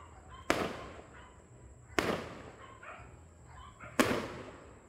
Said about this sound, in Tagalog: putukan na